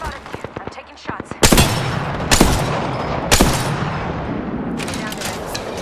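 Gunfire in the shooter game Apex Legends: rapid bursts of rifle shots early on, then several loud heavy blasts spaced about a second apart over a lingering rumble, ending in a quieter burst of shots.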